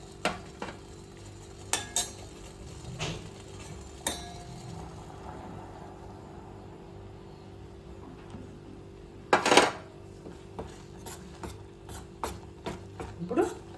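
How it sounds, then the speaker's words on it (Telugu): A spoon stirring flour into melted jaggery in a pot, with intermittent scraping clinks against the metal sides and a louder rattling scrape partway through, quiet and close. "ఇప్పుడు పిండి పోసుకొని కలుపుకుందాం"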